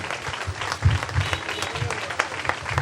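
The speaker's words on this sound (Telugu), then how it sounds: "ఇంకొకసారి చప్పట్లు కొడదాం" Guests clapping together at a Telugu Christian wedding ceremony, a dense ongoing round of applause filling the room with a voice speaking over it.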